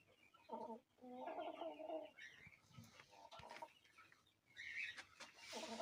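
Sick chicks with a respiratory illness cheep and peep faintly, with irregular bursts of calls across several seconds in a quiet setting.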